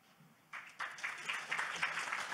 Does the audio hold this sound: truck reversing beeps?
no